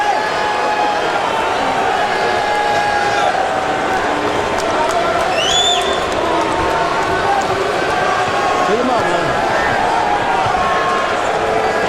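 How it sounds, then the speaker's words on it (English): A sellout arena crowd roars at a UFC bantamweight fight in Calgary, a steady dense wash of cheering and crowd noise held at a loud level throughout, with a commentator's voice running over it. "Sellout crowd here in Calgary."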